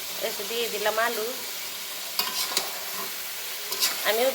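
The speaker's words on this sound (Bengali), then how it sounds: "এসে দিয়ে দিলাম আলু।" Potatoes sizzle in a pot of chicken curry as they are stirred, with a soft frying hiss, a few scraping knocks and brief murmured voices in the background.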